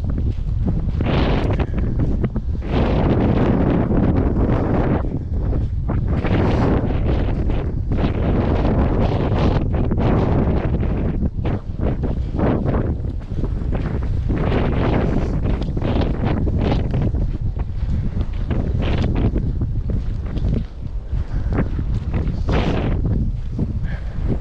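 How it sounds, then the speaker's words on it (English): Gusty wind pounds the microphone on a prairie trail in Ohio metro parkland, a loud, constant rumbling roar with irregular bursts throughout and no talk over it. "it's so windy."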